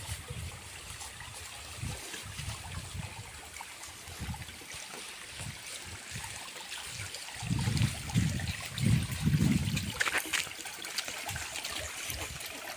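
River water flows beside a talisay tree with a faint, steady trickling and gurgling. The sound is soft and continuous, with slightly fuller surges partway through.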